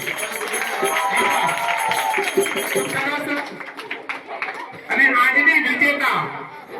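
A school audience at an antakshari music event claps for the second-place team, a dense burst of applause mixed with crowd chatter and a speaking voice, swelling loudest near the end.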